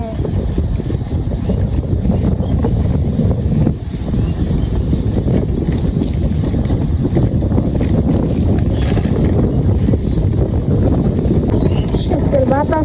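Outdoor wind buffets the microphone in a village setting, a loud rough rumble with gusty surges that runs continuously throughout.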